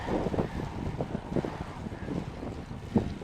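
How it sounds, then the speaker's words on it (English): Wind buffets a microphone in uneven thumps and low rumbles on a ride at Mount Warrenheip, a short burst of blustery noise with no voices. "It's a bit windy now. Hopefully the microphone's holding up"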